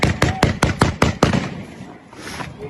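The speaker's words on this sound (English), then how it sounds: "At that moment, bursts of gunfire erupt close by" Seven rapid, sharp gunshots crack close by in a quick burst over about a second and a half, then fade into outdoor ambience.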